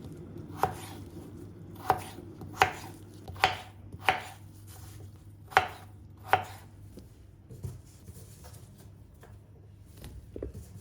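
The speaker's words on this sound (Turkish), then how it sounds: "Şimdi patateslerimizi doğramaya başlıyoruz." A knife chops potatoes sharply against a cutting board, about nine separate strokes at an uneven, unhurried pace, close up with quiet background hum.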